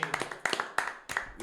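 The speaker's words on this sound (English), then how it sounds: "let's give a clap" Podcast hosts clapping their hands in a studio, a loose string of sharp, close claps in uneven clusters, with speech-like sounds between them.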